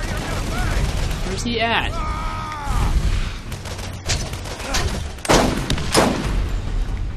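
Explosive grenade blasts and gunfire crackle through a Borderlands firefight, with several sharp bursts near the end, under excited talk from a player.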